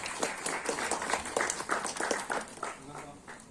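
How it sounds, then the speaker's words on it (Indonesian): Audience applause for the Solo Bersimfoni orchestra at a digital community gathering, scattered clapping with distinct individual claps, moderately loud and tapering off toward the end, mixed with some voices. "tepuk tangan yang meriah untuk Solo Bersimfoni"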